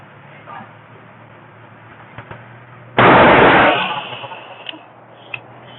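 One loud shot from a precision rifle chambered in 6.5 Creedmoor or .338 Lapua Magnum, fired past a chronograph on a range. It cracks sharply after a quiet stretch and then rings out in a fading tail.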